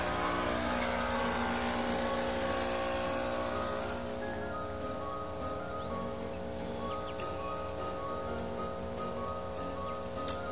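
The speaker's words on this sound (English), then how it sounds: "so we'll go ahead and start the brew" A Nespresso machine brews espresso, a loud buzzing pump hum that eases after a few seconds into a softer steady drone with faint trickling and a small click near the end.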